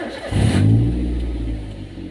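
A used car's engine being checked during inspection cranks and catches, then revs up loudly and settles into a steady, close-up idle-level rumble, with no talking.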